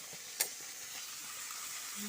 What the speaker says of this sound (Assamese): বিলাহীখিনি এতিয়া ভাজি আছোঁ